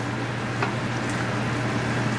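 Tadka for a cod fish curry sizzles in a pan on medium heat as it is stirred, giving a steady close crackle with a low hum underneath.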